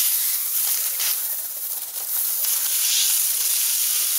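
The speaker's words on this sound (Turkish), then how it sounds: "Yani buharla birlikte bayağı bir çok su atıyor." Bim steam mop releasing steam, a loud, steady airy hiss that continues without a break for several seconds, close to the listener.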